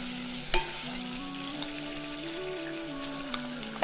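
Peppers hit a pan of frying sauce, giving a steady close sizzle with faint stirring and scraping, a sharp clack near the start and no talking.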